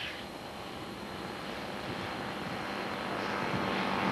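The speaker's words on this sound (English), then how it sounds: "Nice airplane, huh?" Propeller airplane at a Top Gun 2000 flying event passes overhead with a steady, broad droning roar that swells slightly louder toward the end, no voices over it.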